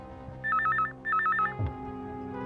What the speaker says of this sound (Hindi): सर आपके लिए फोन।